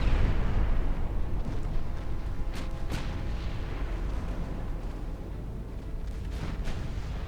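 Naval gunfire in the Ultimate Admiral Dreadnoughts warship game keeps up as a constant low rumble of distant battle, with a few sharper bursts of shots popping out above it.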